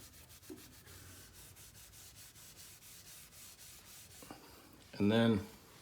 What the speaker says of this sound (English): I just scrub it out using, I don't know, medium pressure